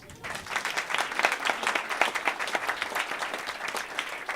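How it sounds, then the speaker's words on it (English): An audience applauds at a storytelling event, a full, continuous burst of clapping with a rippling texture that swells and holds at a moderate level. "You can applaud for that."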